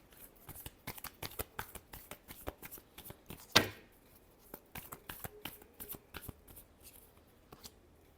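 Tarot cards shuffled by hand, a rapid stream of soft papery flicks and riffles with one louder snap partway through, faint and close, no speech.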